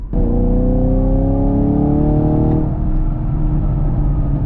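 A Chevrolet Camaro sports car engine revs up loudly and steadily, its pitch climbing for a few seconds before the driver lifts off and the engine settles back to a lower drone.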